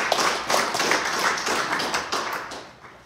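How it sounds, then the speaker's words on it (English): Audience at a Wednesday night ceilidh claps in a dense, sustained round of applause that stays fairly loud and steady throughout, fading slightly toward the end. "Let's give her a big round of applause."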